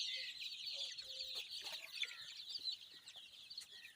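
Young chickens outdoors in the sun, a dense chorus of high, faint cheeping and soft clucks chattering continuously, with no talk.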